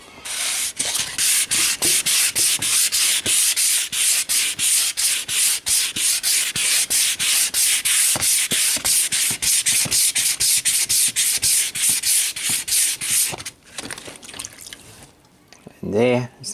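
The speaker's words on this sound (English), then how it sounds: "We're just going to go over and sand most of that off, and that'll show us the low spots and the high spots." Dried filler on a restored treadle lathe is sanded by hand in rapid, rhythmic back-and-forth strokes, loud and close and sustained for most of the stretch before tapering off near the end.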